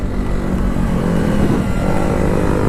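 A motorbike on a wet hill road with failing brakes, its engine revving high and loud in a steady, close roar for a few seconds, alone without talk.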